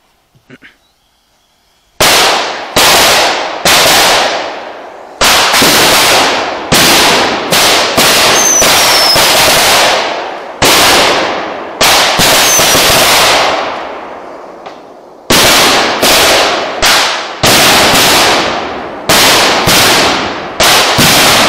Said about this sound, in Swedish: Så nu får ni bara njuta av explosionerna, eller vad man säger. Av smällarna.